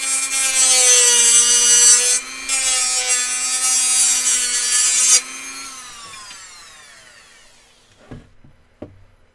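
A part is deburred, its burrs shaved off in a loud, high, ringing scrape that runs steadily for several seconds, then fades, followed by a few sharp clicks and taps.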